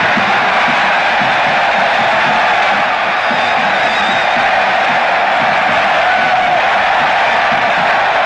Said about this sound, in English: the crowd gave its biggest and warmest welcome